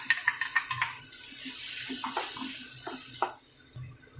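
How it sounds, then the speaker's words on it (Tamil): Water pours steadily into a pot of okra buttermilk curry for a couple of seconds, framed by a few light clinks and clatters before and after. "கொஞ்சமாக தண்ணி சேர்த்துக்கலாம்"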